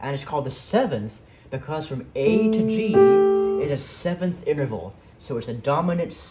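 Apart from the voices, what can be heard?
No everyday noise stands out behind the speech.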